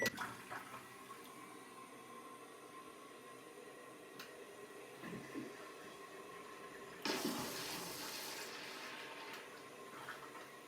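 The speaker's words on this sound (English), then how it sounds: "let's go ahead and check out the flushing power on this toilet" A Casta Diva smart toilet, flushed with its manual button, lets out a quiet click and gurgle, then a sudden strong rushing flush of water from about seven seconds on, faint but steady.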